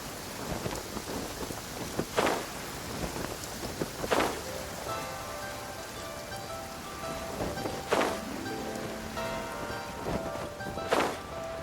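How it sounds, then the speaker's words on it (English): Steady rain falling with a broad hiss in the game Genshin Impact, punctuated by several sharp louder bursts, while faint tonal music plays underneath. "It's raining again."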